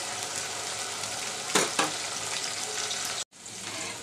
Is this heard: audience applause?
no